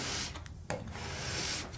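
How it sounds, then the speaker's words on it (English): Hand scrapers, including a veneer scraper, pull old finish off a large 4x8 cherry tabletop, making a steady close rasping scrape with a few short strokes and brief breaks. "After using the veneer scraper and coming through and scraping some of this stuff off"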